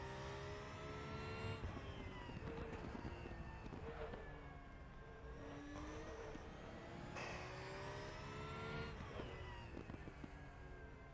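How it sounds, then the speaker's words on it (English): A Porsche Boxster's rear-mounted engine in the RaceRoom VR sim, circulating the Nürburgring, drones steadily with rising and falling pitch as it revs through gears, loud and continuous with no talk over it. "That Boxster engine in the back there is, it sounds very different."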